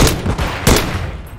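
Marksman rifle fire in a video game, two loud close bursts of shots with heavy booming reports and trailing echo, with no talk.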